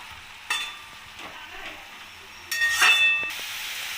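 Cabbage frying over a high gas flame while being stirred in a pan: a steady low sizzle with sharp bursts of louder hiss and scraping at intervals, close by, with no talking.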